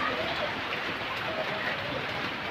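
Steady rain falls on a laundry day, a dense even hiss of drops on surfaces with no pauses throughout.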